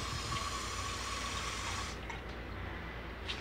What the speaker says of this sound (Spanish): Vamos a echarle un poquito de agua a la lata.